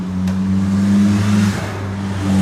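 A vehicle engine revs as the throttle is twisted, a loud close drone with steady low harmonics that swells and shifts pitch midway, then settles back to a constant run, with no voices.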